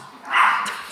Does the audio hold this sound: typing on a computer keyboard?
no